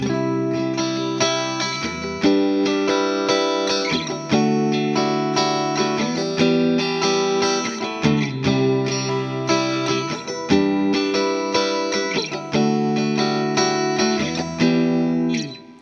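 A Fender Player Stratocaster on pickup position 2 strums a sequence of ringing open chords, each struck roughly every two seconds and left to sustain, slightly overdriven, with no voices.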